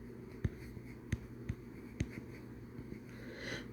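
A pen taps and scratches on paper as numbers are jotted down, leaving a few sharp close strokes over a faint steady room hum.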